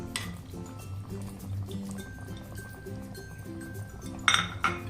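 Prawns go into a pot of water for a poppy seed prawn dish, with light clinks and a brief splash and drip near the end over steady background music.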